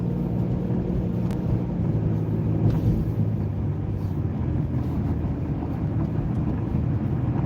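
Steady engine rumble and road noise from a car driving at night, a continuous low drone heard from inside the cabin with no talking.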